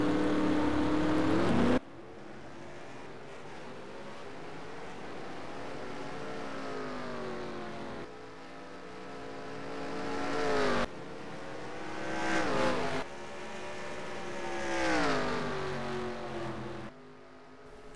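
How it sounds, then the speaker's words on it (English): The number 15 Napa Chevy race car runs at Bristol, its engine a close, loud roar that rises and falls through the corners and breaks off abruptly at several cuts. "Let's ride along with Dean here in the number 15 Napa Chevy."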